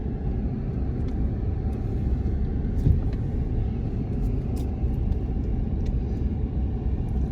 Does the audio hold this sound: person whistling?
no